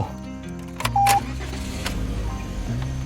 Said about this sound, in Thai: อันนี้สามารถจะพับกระจกนะครับ ในกรณีที่จอดจะเป็น พับเข้าเก็บออก